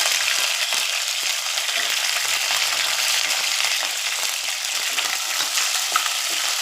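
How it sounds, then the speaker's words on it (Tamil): Ginger, garlic and curry leaves fry in hot oil in a pan, giving a dense, even sizzle up close with light stirring and spatter throughout. "அடுத்தது இஞ்சி, பூண்டு, கருவேப்பிலை வச்சுருக்கேன், அதையும் போட்டுக்கிறேன்."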